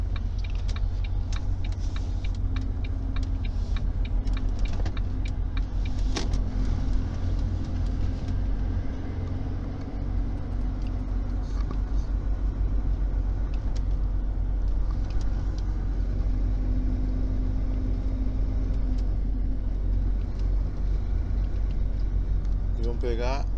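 Cars rumble and pass steadily at a busy Uruguay-Brazil border crossing, a continuous low traffic drone heard from inside a vehicle while people talk over it.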